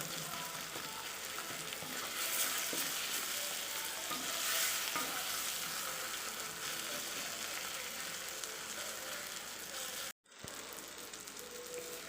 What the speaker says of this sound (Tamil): இப்போ நம்ம இதை நல்லா வதக்கிட்டோம்.